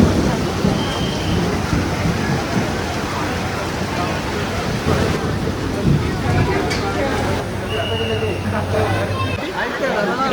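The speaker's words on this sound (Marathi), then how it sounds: "बेकार पाऊस चाललाय इकडे" Heavy rain pouring down steadily at Trimbakeshwar, a dense continuous hiss that fills the whole stretch, with a brief high whine and faint voices in the background.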